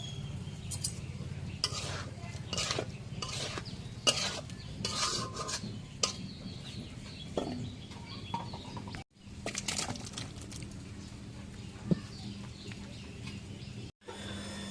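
Soybean chunk curry stirred in a pan, giving steady scraping and rubbing strokes of a utensil against the pan over a continuous low sizzle, with brief pauses between strokes.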